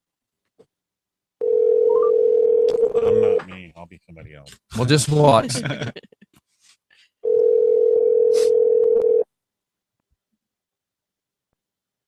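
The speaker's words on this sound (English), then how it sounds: "let's call this number back right here" Telephone ringback tone on a radio show sounds in two long, steady buzzing stretches, with someone talking in between and the line falling silent after the second ring.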